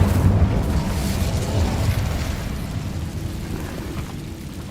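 An Incendio fire spell in a Hogwarts video game lets out a deep, rumbling fiery whoosh and boom that starts strong and slowly fades over several seconds, with no voices.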